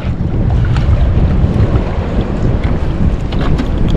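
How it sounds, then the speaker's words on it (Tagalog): Strong wind gusts at sea buffet a small fishing boat, a steady loud roar of wind noise and water with no talking. "Lakas na ng hangin."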